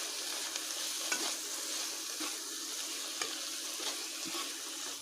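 Mushrooms cooking with turmeric and other spices for a Wazwan-style mushroom masala: a steady pan sizzle, broken by a spoon scraping and stirring at regular intervals, close and alone.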